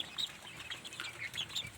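Chickens clucking softly, a scattered run of short, faint calls with a little rustling in the background.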